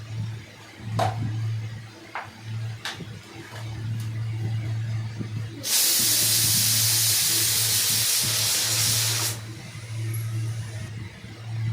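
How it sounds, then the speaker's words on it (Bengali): Potatoes and peas boiling in a pot for egg ghugni: a steady low hum with scattered clicks, then a loud, continuous steam hiss lasting several seconds before it drops back to the quieter hum. "প্রথমে আমি আলুটাকে আলু এবং মটরটাকে সিদ্ধ করব সিদ্ধ করছি"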